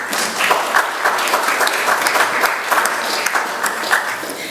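A general monthly community meeting audience claps in a lively, uneven round of applause, individual hand claps audible within the steady crowd noise, fairly close and loud.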